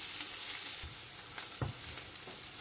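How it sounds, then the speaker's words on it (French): Shallots and purple artichokes fry in a pan, a constant close hiss with a few soft thuds and scrapes from stirring, heard alone without voices. "on continue la cuisson pour la bien faire dorer nos échalotes"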